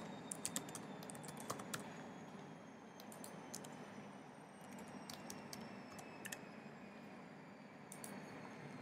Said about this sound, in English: I'm going to key in my password now.